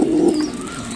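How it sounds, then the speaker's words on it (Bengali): A pigeon at a pigeon-keeping loft gives one low, throaty coo, close and loud, with no talking. "মোহাম্মদ কবুতর কি করছে?"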